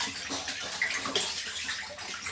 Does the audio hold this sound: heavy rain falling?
no